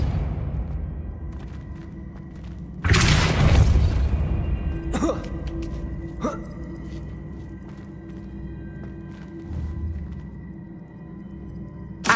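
Depulso spell impact from the video game Hogwarts Legacy: a sudden, loud, booming blast that swells for about a second over steady background ambience, with a few softer pops following.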